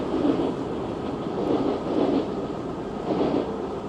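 A Toronto subway train passing behind a construction site, heard as a steady low rumble that swells and eases in slow waves throughout, moderately loud and continuous, with no voices over it.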